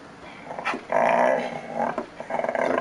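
A large dog growls in long, throaty rumbles close up, in several sustained bursts with brief pauses between them.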